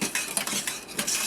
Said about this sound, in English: So I'll continue to stir this until the cream thickens